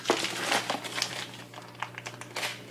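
Paper towels crinkle and rustle in a series of irregular bursts while raw chicken is trimmed during meal prep, close and fairly soft, with occasional light taps and handling noises.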